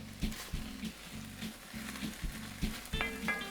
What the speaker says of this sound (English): Now we are going to add the tomato.